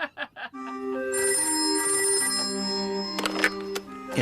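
Telephone ringing in a home, a sustained electronic ring lasting a few seconds after a short burst of voice, with clicks as it stops, close and fairly loud.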